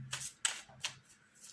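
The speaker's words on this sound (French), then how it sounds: "Alors, je vais tirer une carte" Tarot cards being shuffled by hand before one is drawn, three quick crisp riffling bursts close by in a quiet room, with a faint murmur in between.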